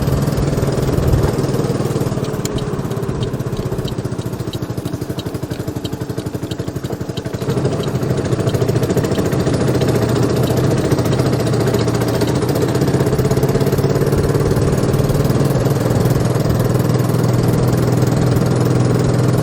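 A Honda Helix 250cc scooter engine runs steadily at close range, a loud continuous drone with a slight change in texture partway through and no talking over it.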